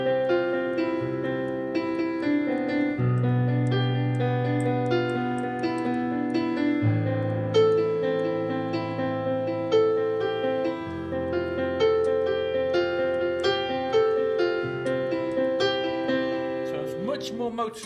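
Sustained keyboard chords shift every couple of seconds, layered with higher melodic notes, steady and moderately loud with no talking.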